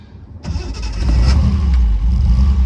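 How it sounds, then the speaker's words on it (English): A Reliant Scimitar GTE SE5a with manual overdrive and automatic choke cranks and catches, then settles into a loud, steady engine rumble close by, with no talking. "Starts nicely, starts well whether it's hot or cold."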